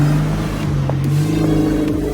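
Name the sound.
2014 Volkswagen GTI DSG car engine revving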